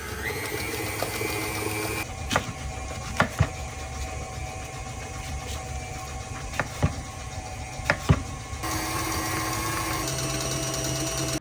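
Electric mixer whipping a batter with sugar until fluffy, a steady loud motorized whir with occasional sharp knocks of the beaters against the bowl, running continuously close up.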